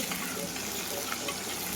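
Hot oil sizzles and crackles steadily as ginger is tempered in a pan for Kerala-style fish curry, with small pops scattered through the hiss.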